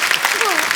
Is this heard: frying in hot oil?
no